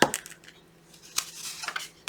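Dice rolled for a savings game, giving a few light clattering rattles on a hard surface, with a sharper click near the middle and another at the end, fairly close and quiet with no talking.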